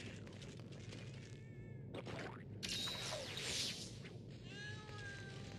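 Several short cat meows and a rising whine ring out over a steady rumbling game background with occasional booms, set in the volcano area of Monster Hunter 4 Ultimate during a Teostra hunt.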